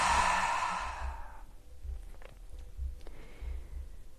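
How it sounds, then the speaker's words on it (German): A long, deep exhale out through the mouth, loud and breathy at the start and trailing off into quiet room tone. "wir atmen ein, strecken wirklich den Bauch nach außen und atmen aus dem Mund wieder aus."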